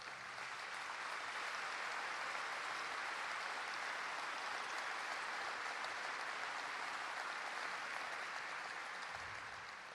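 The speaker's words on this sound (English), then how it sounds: "if you could stand up so we can give you a huge round of applause" A large luncheon crowd at a Texas Tech Red Raider Club kickoff gives the football players a sustained round of applause, dense and steady clapping that fills the room for the whole stretch and tapers only slightly at the end.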